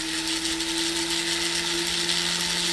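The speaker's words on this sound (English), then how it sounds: "I prefer a rock myself for grinding" A rotary grinding stone steadily works a small metal jewelry piece such as an end tab or jump ring, giving a continuous, even whirring grind with a constant motor hum throughout.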